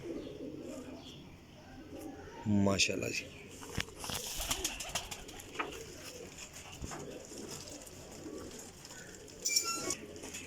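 Teddy pigeons, a flying breed, coo softly in a loft while someone talks over them, with a couple of louder bursts of bird sound near the start and end.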